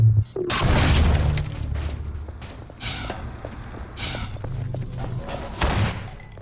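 Shotgun blasts and combat noise in Half-Life 2: Episode One, with a heavy booming shot near the start followed by scattered thuds, impacts and further loud bursts over several seconds, no talk.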